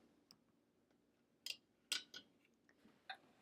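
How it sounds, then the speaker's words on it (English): Scissors snip thread during quilting, giving two or three short, faint, crisp clicks over quiet room tone. "Snip that."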